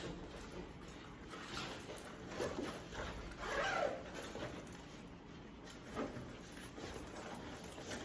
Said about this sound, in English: So you can zip the middle out.